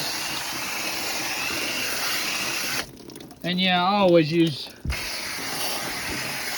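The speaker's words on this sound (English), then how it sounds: "It's literally just spray it on like so." A steady hiss of coil cleaner spraying from an aerosol can onto an outdoor HVAC coil runs for several seconds, pauses while someone briefly talks, then resumes.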